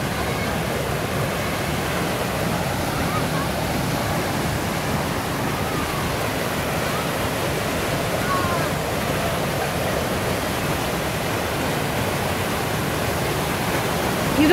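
A waterfall in Bryce Canyon National Park roars as a steady, broadband rush of falling water, loud and unbroken throughout, with no clear voices over it.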